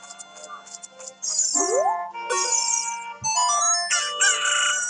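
A cucco hen in the video game Zelda: Ocarina of Time makes bright, synthetic, chirping fowl calls, a busy electronic sequence of rising and warbling tones running continuously and loud.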